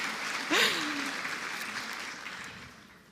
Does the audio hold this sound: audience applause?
yes